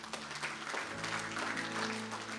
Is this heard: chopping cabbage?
no